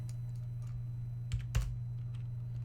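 A few faint, sparse keystrokes on a computer keyboard while coding an HTML portfolio website, two soft clicks standing out over a steady low electrical hum, with no talking.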